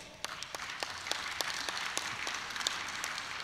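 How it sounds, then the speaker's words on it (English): A room of people claps steadily, a moderate round of applause with distinct individual claps rising out of the patter. "Please give them a round of applause."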